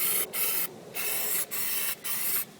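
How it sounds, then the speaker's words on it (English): Short hissing bursts of Plastidip spray aerosol coated onto a 2012 Cadillac Escalade ESV wheel outdoors on a windy day, four close bursts separated by brief pauses. "Then I'll spray the center and then the outside."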